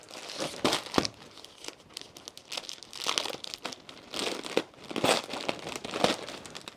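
Cellophane bags crinkling and crackling as they are handled up close, in irregular bursts of sharp crumpling that rise and fall, with no talking.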